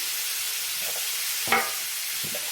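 Vegetables and onion fry in a hot pan with a constant soft sizzle, broken by a brief louder stirring scrape in the middle and a few faint clinks.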